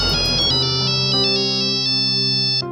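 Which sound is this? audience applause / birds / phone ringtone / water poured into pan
phone ringtone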